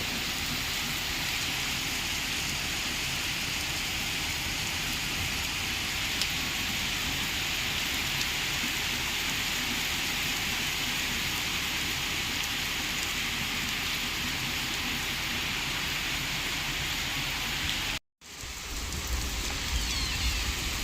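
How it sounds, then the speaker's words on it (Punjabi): Steady rain pours down in a continuous dense hiss, evenly loud throughout, briefly cutting out near the end before resuming. "ਲੋ ਬਾਈ ਘੰਟਾ ਹੋ ਗਿਆ ਮੀਂਹ ਪੈਂਦੇ ਨੂੰ"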